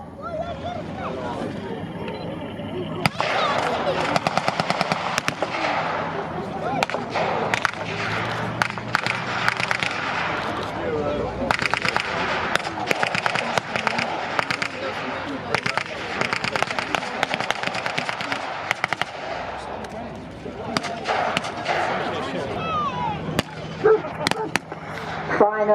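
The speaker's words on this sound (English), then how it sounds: "The gunfire and occasional shots from the Germans" Dense, continuous crackling volleys of blank gunfire with sharper isolated shots at a WWII Normandy battle reenactment at Military Odyssey 2025, loud and sustained with brief lulls, and voices talking underneath.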